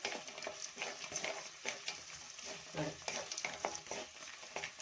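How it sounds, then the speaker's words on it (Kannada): Onions fry in a pan for coriander-leaf puliyogare while being stirred, a steady crackling sizzle broken by scraping stir strokes, close and moderately loud, with no talk. "ಇದು ಕೂಡ ಒಂದೆರಡು ನಿಮಿಷ ಫ್ರೈ ಆಗಲಿ ಈಗ ನೋಡಿ ಚೆನ್ನಾಗಿ ಈರುಳ್ಳಿ ಕೂಡ ಫ್ರೈ ಆಗಿದೆ"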